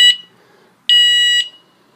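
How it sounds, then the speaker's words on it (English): Two shrill electronic warning beeps from a motor controller signaling undetected hall sensors sound close by, a short chirp followed by a longer sustained tone, with near silence in between. "These are the warning beeps to tell you that the hall sensors are not detected"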